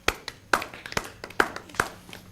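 Sparse hand claps from a poetry gathering audience, a few separate sharp claps spread out rather than a full ovation, fairly close, no talk.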